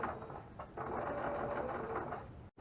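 A sewing machine stitches binding onto a patchwork cross stitch clutch, one steady close run of rapid needle whirring that stops abruptly at the end.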